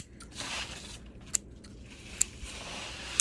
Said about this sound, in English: trim off the moss with with a pair of scissors